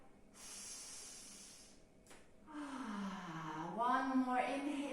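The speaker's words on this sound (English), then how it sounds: "Full cycle of breath." Slow, deep breathing during a vinyasa yoga flow, a long airy inhale-exhale hiss that swells up close, with a guiding voice speaking over the latter part.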